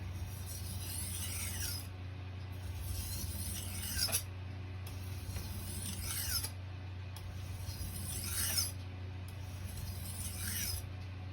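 A knife is drawn across a wet 8000-grit whetstone in slow, evenly spaced strokes, each a soft rasping swish of about two seconds, close and quiet, with no talking.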